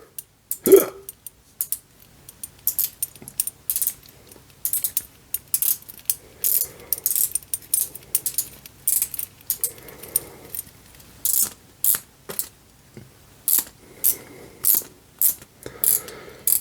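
Dry, sharp mechanical clicks come in irregular bursts as a sticky Henry Archer Nordlys Aeon watch bezel is turned, the ratcheting repeating many times up close with faint background noise.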